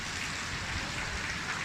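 Heavy rain from Typhoon Ulysses pouring down steadily during a flood in Green Acres, Cainta, San Isidro, a dense, loud wash of drumming water with no break and no voices.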